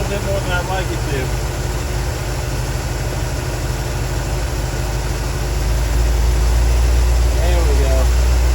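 A 1972 Buick Skylark V8 idles steadily after a tune-up, a low continuous rumble that swells louder toward the end as the idle is raised, with a person talking over it.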